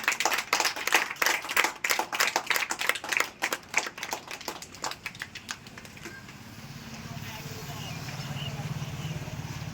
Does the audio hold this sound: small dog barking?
no